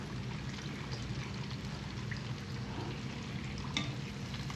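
Quiet, continuous sizzling and crackling of fish frying in hot oil, a steady hiss with faint pops and no talking.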